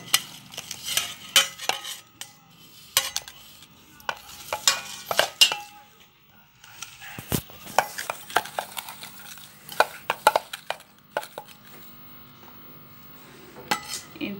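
A spoon mixes pani puri masala with whole cumin and peas in a bowl, giving irregular close scrapes and clinks in scattered bursts with quiet gaps between.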